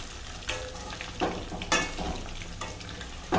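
Green masala cauliflower being stirred as it fries in hot oil, a steady sizzle broken by several soft scraping stirs at close range, with no voices.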